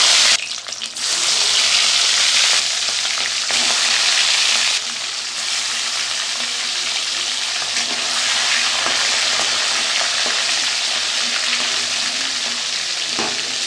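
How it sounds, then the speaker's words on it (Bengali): Rohu fish sizzles and crackles loudly in hot oil, a continuous close hiss with occasional pops and a stir or scrape now and then. "তেল তো গরম হয়ে গেছে আমি মাছটা দিয়ে দিলাম"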